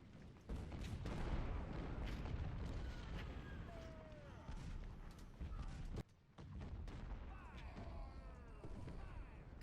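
Artillery fire from the Civil War strategy game Ultimate General: Civil War, a continuous low rumble of distant cannon booms and battle noise, with someone talking over it.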